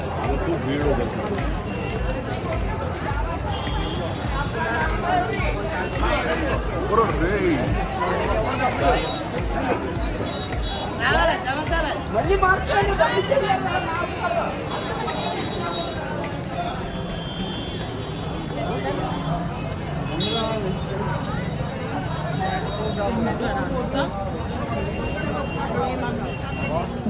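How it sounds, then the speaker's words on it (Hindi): A dense crowd of pilgrims at Sangam Ghat during Mahakumbh 2025 in Prayagraj fills the air with continuous overlapping chatter and footsteps, an even, loud hubbub without pause. "भीड़ हो गई।"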